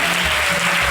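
A church congregation at a convention breaks into loud, sustained applause, a dense wash of clapping filling the whole moment without pause.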